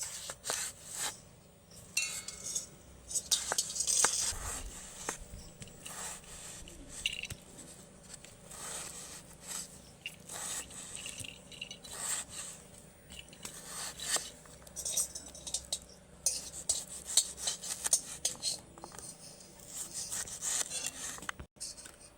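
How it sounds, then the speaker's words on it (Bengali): Unpeeled cucumber being diced into small cubes with a knife on a board, soft repeated chopping taps and rubbing scrapes, quiet and irregular, with no talking. "এরকম ডুমো ডুমো করেই কিন্তু শসাগুলো কাটতে হবে।"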